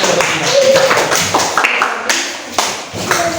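A classroom audience claps unevenly in a teacher-training session, a patchy mix of close and distant hand claps with a few taps and thumps, loud and without talk.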